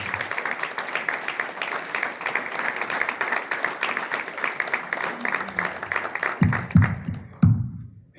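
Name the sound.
audience applause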